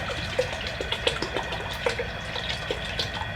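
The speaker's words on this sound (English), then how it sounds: "I'm gonna add a little bit in there to my boiling water here." Liquid trickles and splashes into boiling water for cleaning a whitetail deer skull, with soft bubbling and small plinks, steady and close, no voices.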